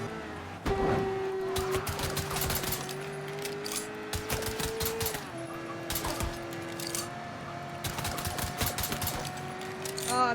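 Rapid rattling volleys of gunfire in Mafia III crack in repeated bursts at close range, with sustained background music tones beneath and brief speech.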